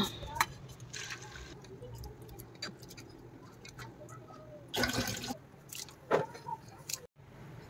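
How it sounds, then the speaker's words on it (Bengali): Broken wheat (dalia) is washed in water in a home kitchen, with intermittent splashing, swishing and dripping sounds close by and a few sharper clinks between quieter stretches. "এটা ডালিয়াটা ধুয়ে নেব।"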